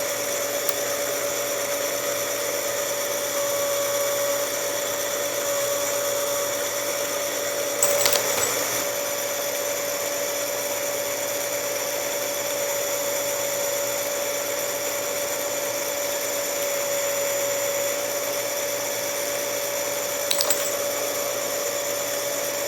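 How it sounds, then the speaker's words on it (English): A case prep station whirs steadily while inside and outside reaming and chamfering nickel .223 Rem brass cases being converted to .300 Blackout, a constant close motor hum with a couple of brief scraping clinks of brass. "I'll do a quick inside-outside ream here on the prep station"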